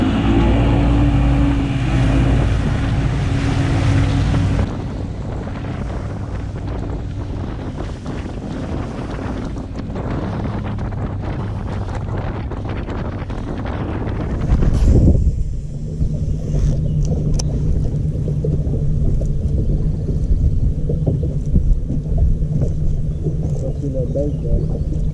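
A bass boat engine roars loudly with heavy wind buffeting the microphone on Kentucky Lake, then the pitch settles into a steadier high-speed drone as the hull planes out.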